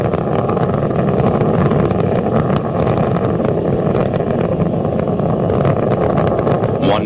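Space Shuttle Atlantis's three liquid-fuel main engines roar during launch in a steady, dense, loud rumble with no breaks, heard from a distance with wind buffeting.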